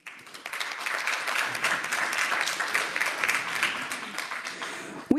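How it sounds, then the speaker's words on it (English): Applause breaks out at a school board of education meeting in honor of the Windsor schools, a steady wash of many hands clapping from the room with some voices mixed in, fading out at the end. "We should clap it up for them"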